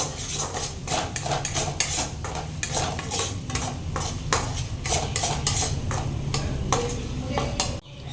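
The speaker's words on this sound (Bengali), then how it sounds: "এটা একটু ভালোভাবে কষিয়ে নেবো" Spoon scraping and clinking against a pan while Kashmiri chilli powder and turmeric are fried for vegetarian dhokar dalna, a steady run of close metallic strokes over a low sizzle, without talk.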